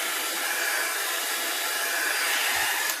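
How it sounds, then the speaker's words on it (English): A hair dryer blows over an alcohol ink painting with a steady, loud, close whirring rush. It runs alone without pause and cuts off just before the end. "Sometimes I'll take the dryer to it so this texture stays"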